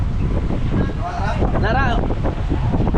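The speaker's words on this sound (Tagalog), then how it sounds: "Yun kasi malakas na yung hangin mga kabisig at ulan" Strong wind roars steadily across a boat at sea during unloading, buffeting the microphone in a dense continuous rush while someone shouts briefly partway through.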